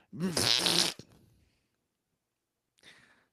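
A voice imitates a fart noise with a single loud, buzzing, lip-flapping blast of about a second, followed by silence and a faint short exhale near the end.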